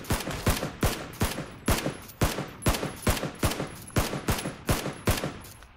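Rapid gunfire in PUBG: Battlegrounds, a close, loud volley of about fifteen sharp shots in a fairly steady rhythm on a foggy map near a prison, with no talking.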